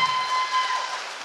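Audience at a 2019 spring student election candidate question time gives a brief burst of steady clapping, close and dense, without voices.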